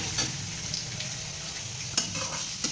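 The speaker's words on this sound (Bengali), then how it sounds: "এখন পেঁয়াজটা একটু ভেজে নিতে হবে" Chopped onion goes into hot oil already crackling with whole cumin seeds, giving a steady, close sizzle with a few sharp clicks from stirring.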